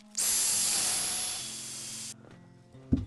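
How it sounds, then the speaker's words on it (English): A loud, steady whoosh of a hair dryer drying a freshly painted gnome miniature blows for about two seconds, then cuts off, leaving a quiet hum and a brief knock. "So let's get the hair dryer out and we'll dry."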